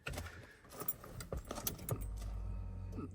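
Keys jangle and click as the ignition is cycled on a Ford F150 to prime the fuel line, followed by a low steady hum from the truck that holds to the end.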